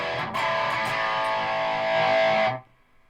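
A REVV G3 distortion pedal carries an electric guitar's thick, crunchy chord that rings loud and steady for about two and a half seconds before being cut off.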